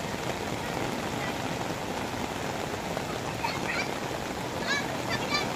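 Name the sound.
rain falling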